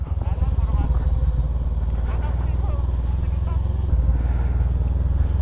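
A motorcycle engine drones steadily on a steep, rough mountain shortcut road, loud and close. Voices talk briefly over it.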